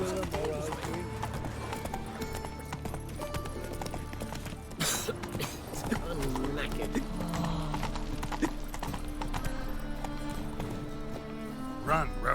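Hoofbeats of the horse Roach galloping in The Witcher 3, a steady clip-clop rhythm under game music and spoken dialogue, with a brief whinny.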